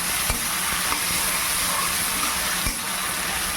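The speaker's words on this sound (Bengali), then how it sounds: "পেঁয়াজগুলোকে ভালো করে ভেজে নেব।" Chopped onions fry in hot oil for a mutton curry, giving a steady, close sizzle throughout with a couple of soft utensil knocks and no talking.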